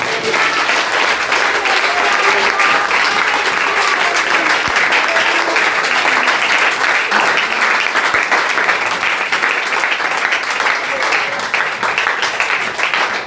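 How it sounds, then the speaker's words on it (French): Congregation applause at a French-language church service, loud continuous clapping from a large crowd that keeps a steady level for over ten seconds. "Applaudissons pour le Seigneur Jésus."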